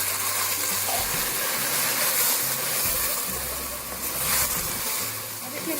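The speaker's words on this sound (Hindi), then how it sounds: "थोड़ा सा पानी शामिल करेंगे।" Water is poured into a pan of frying onion and tomato paste while making kadhi pakora, giving a loud, steady hissing gush that continues throughout.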